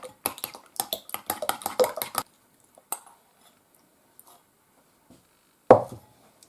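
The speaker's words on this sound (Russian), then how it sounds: "Яйца. Так, это размешиваю." Eggs are stirred in a bowl, giving a quick run of close, sharp clinks and scrapes of utensil against the bowl. Then come a quiet pause and a single louder knock near the end.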